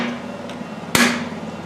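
A single sharp hammer strike on a rear wheel bearing of a Kia Sportage, one loud close metallic hit with a quick ringing decay in a quiet garage.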